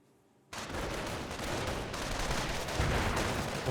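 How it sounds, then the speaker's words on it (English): Dense, loud battle din from a Company of Heroes 1 match, US versus Wehrmacht: continuous gunfire with heavy mortar impacts, starting abruptly after a brief near-silence and holding steady to the end, with no speech. "Great mortar hit there, that mortar's on point."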